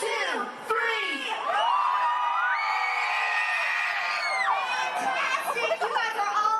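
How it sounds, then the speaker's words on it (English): A theme park audience screams together as a team, a loud, sustained crowd of high children's and adult voices rising into a long shrill peak and continuing with whoops and cheers. "I want to hear a big green team scream on 3"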